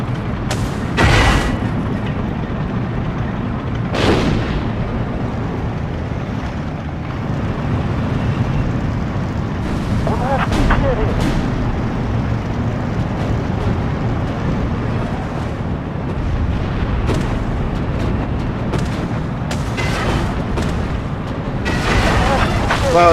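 Deep artillery booms and explosions from a modern-combat video game with a self-propelled gun thud out at irregular intervals, some loud and some more distant, beneath ongoing talk.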